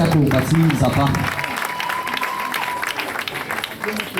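Church congregation applauding after a prayer, a dense wash of clapping that starts loud and continues steadily, with voices and a brief sung or sustained tone mixed in at the start.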